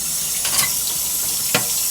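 A metal wort chiller is rinsed under running tap water while brewing a homemade stout, a steady close splash of flowing water with a couple of brief louder spatters.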